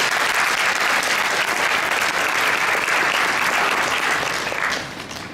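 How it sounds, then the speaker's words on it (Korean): A crowd at a student retreat claps steadily in dense, loud applause that fades away toward the end. "감사의 박수"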